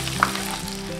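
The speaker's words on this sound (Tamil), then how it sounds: "வெங்காயம் நல்லா வதங்கட்டும்." Chopped small shallots sizzle steadily in hot oil in a pan while a ladle stirs them, a close, even frying hiss for a spicy garlic kuzhambu with no talking.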